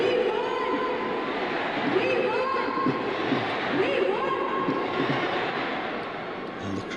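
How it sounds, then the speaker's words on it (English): A packed cricket stadium crowd at a Pakistan vs India Champions Trophy 2025 match in Dubai keeps up a steady, loud roar throughout, with a commentator talking over it. "And the crowd coming alive now."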